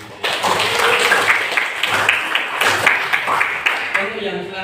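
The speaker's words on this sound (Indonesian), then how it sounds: "Oke, tepuk tangan dulu Wahyu." An audience in a school classroom lesson on waste management applauds for a student named Wahyu, a dense, steady wash of clapping lasting several seconds with a few louder individual claps standing out.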